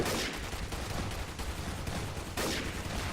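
Dense, rapid gunfire rattles without pause during a zombie survival match in Garry's Mod, a loud continuous barrage with a fresh volley cutting in near the end.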